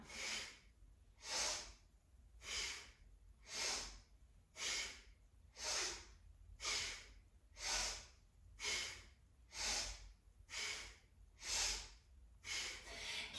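Steady rhythmic breathing during a Kundalini spinal flex yoga sequence, with about a dozen deep inhale-exhale cycles repeating every second or so, close and clear with no talking.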